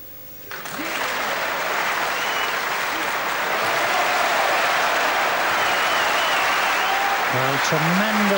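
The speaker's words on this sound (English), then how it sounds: "Well, tremendous applause from the audience" A snooker audience at the 1984 Benson & Hedges Masters semi-final breaks into loud, sustained applause that swells quickly and holds steady, and a commentator's voice comes in briefly near the end.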